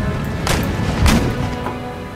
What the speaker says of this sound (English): Now we got the cannons.